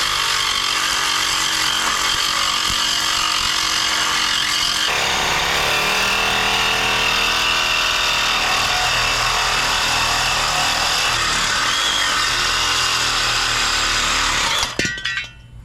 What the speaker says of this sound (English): So you're gonna wanna use a metal blade sawzall